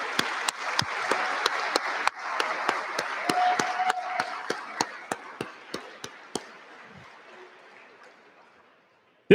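Audience at a military skills competition awards ceremony clapping, a dense wash of applause with sharp individual claps standing out, gradually thinning to a few scattered claps and then silence.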